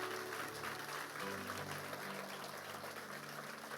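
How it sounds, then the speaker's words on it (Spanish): A church congregation applauding, sustained dense clapping from a crowd filling the room at an even level, with a low hum beneath. "Dale fuerte el aplauso a Él."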